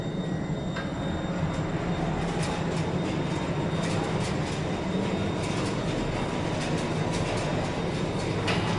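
Vintage Otis freight or passenger elevator running in an engineering building, a steady close mechanical rumble and hum with faint rattles and clicks throughout.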